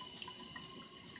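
Water runs and drains steadily from a sink in an old 1930s Hot Springs building, a close, even watery rush with no talking.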